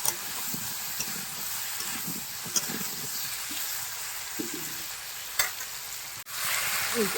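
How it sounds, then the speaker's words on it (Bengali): Pieces of elephant foot yam frying in a pan, a continuous hissing sizzle punctuated by occasional scrapes of stirring, fairly quiet and close with no talking. "এগুলো খানিক্ষণ আমি ভেজে নেবো"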